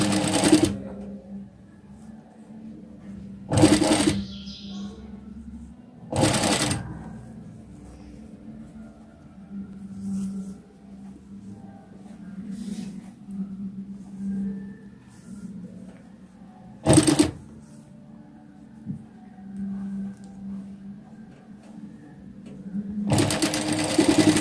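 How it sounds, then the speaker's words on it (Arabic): A sewing machine stitches ruffles onto a dress in steady mechanical runs, interrupted by a few sharp, brief bursts of louder handling noise, with no talking. "اذا غادي نشد ونخيط"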